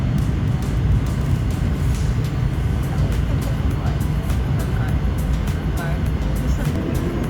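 A British Airways airliner's takeoff as heard from a cabin seat: a steady, loud, broadband roar that holds constant throughout, dominated by deep rumble.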